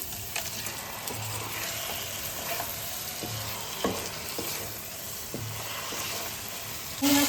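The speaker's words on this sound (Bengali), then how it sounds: "এই মশলার সাথে এবার আমি চিংড়ি মাছটা দিয়ে কিছুক্ষণ একটু কষে নেবো" Prawns frying in a spiced onion masala in a pan, with a steady close sizzle and occasional soft stirring scrapes.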